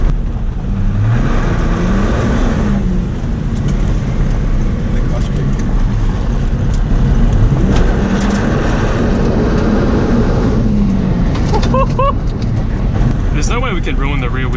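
A Ford Falcon AU drives along a gravel mountain road with a steady engine drone and constant tyre and road rumble throughout, while people talk over it.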